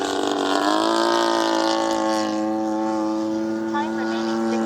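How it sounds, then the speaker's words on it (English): The engine of a 77-inch span RV-8 Old Crow RC model plane drones loudly and continuously in flight, its pitch sweeping upward then settling into a steady high whine as it climbs. "See what kind of climb I have now with the engine a bit more going up."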